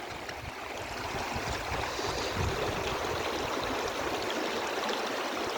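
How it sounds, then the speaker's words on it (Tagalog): A river flows past a homemade fish trap, a steady, full rush and gurgle of moving water heard close and fairly loud, continuous throughout without any talk. "Yan guys, ilog namin."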